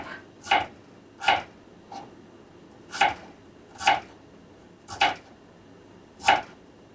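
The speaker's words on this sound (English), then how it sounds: "I also have some small carrots, baby carrots, and I slice them thin." A kitchen knife slices baby carrots thin on a cutting board for a vegan squash soup: seven crisp, separate chops, a couple lighter than the rest, falling at an unhurried, uneven pace against a quiet room, close and with no talking.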